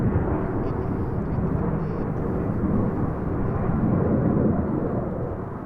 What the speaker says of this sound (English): 5 aircraft approach to fly some absolutely gorgeous rollbacks